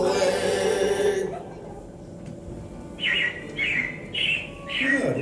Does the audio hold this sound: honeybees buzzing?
no